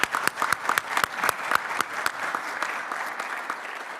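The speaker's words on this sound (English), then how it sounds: "Let's have another round of applause for our speakers" An audience at a technical talk claps for the speakers in a brisk, fairly loud burst of applause that gradually thins and softens.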